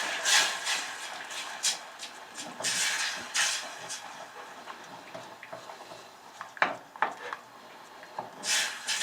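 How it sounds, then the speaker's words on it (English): Sticky sauce-coated double fried Korean chicken wings, sweetened with honey and chili, tossed and stirred in a bowl: repeated wet scraping and clacking of utensil against dish in irregular bursts, close and moderately loud. "Give this a little mix."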